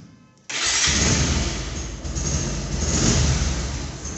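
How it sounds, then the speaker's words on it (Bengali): Engine of a Pulsar double-disc motorcycle catches after a short quiet start, then runs loud and steady nearby, its rough idle rising and falling a little with no voices over it. "সাউন্ড শুনতে পাচ্ছেন বাইকটির"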